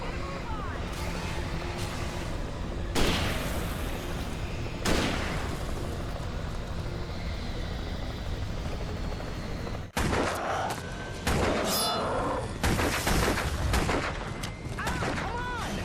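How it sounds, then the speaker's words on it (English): Gunshots in the game Alan Wake sound as separate loud cracks a few seconds apart, then a denser cluster of shots near the end. Heavy ambient rumble and game noise run underneath, and a voice talks over parts of it. "His gun clicked as if he was out of ammo, but then he shot again."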